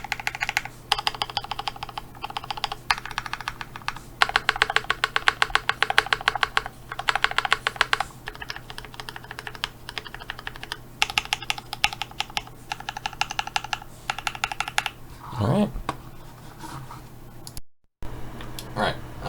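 Typing on a Tokyo60 mechanical keyboard, a steady run of loud, close key clicks in quick uneven bursts with short pauses, carrying on alone for most of the stretch before tailing off.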